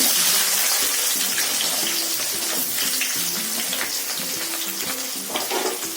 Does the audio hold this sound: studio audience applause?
no